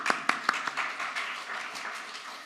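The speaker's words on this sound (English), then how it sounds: "so applause for him." Scattered applause from a small audience at a software refactoring talk, a few distinct claps at first and then a thin, fading patter of hands.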